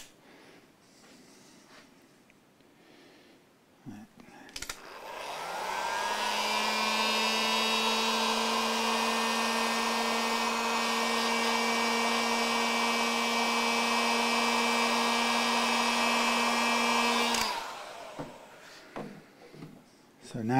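A hot air blower heating a part on a Tanglewood Stratocaster-style electric guitar during a setup, a loud, steady whirring hum that starts abruptly, runs about twelve seconds at constant pitch, then cuts off, with faint handling sounds before and after.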